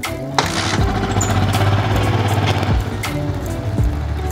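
A Yamaha Old Vixion motorcycle engine turns over on its electric starter and catches, running with a rough, rumbling idle nearby and broken by a few sharp mechanical clunks.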